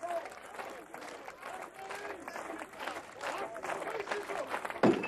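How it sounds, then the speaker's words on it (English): Crowd at a 1988 strongman contest between Jon Pall Sigmarsson and Bill Kazmaier cheers and claps steadily under a commentator's voice, swelling toward the end with a sharp burst near the close. "And the crowd getting behind him now."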